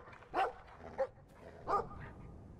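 Dog barking in the video game Brothers: A Tale of Two Sons, three short separate barks of moderate loudness over a quiet game background.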